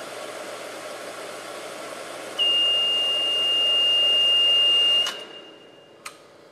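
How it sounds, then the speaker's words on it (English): Over the steady mechanical whir of a residential fire sprinkler pump, the flow switch alarm sounds a piercing continuous electronic tone for a few seconds, then the machinery winds down and a sharp click follows. "And that is alarming off the flow switch."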